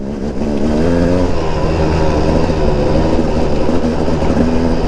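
A dirt bike accelerates hard across open, smooth, rock-free terrain, its engine a loud, steady, close roar that holds throughout with slight rises in pitch.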